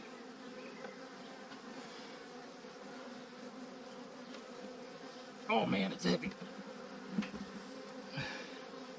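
Honey bees buzz steadily around an open hive as frames are moved during a beekeeping split into a 10-frame nuc, with a brief louder burst of handling noise and a short spoken remark.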